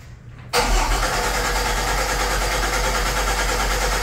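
A GM Gen V engine cranks briefly and catches within half a second, then settles into a loud, steady idle. The start comes during a fuel rail pressure test with a simulated sensor voltage fault.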